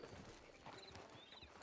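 Horse hooves clip-clopping in a Wild West video game, a short run of soft, faint hoofbeats in a steady walking rhythm over a washy background.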